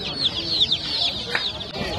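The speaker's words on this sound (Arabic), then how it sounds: "دجاجة عربية وراها 8 فراخ عربيات" Arabian hens and their chicks at Mraidi market: steady soft clucking with high, shrill peeping from the chicks running throughout, fairly close, with market noise in the background.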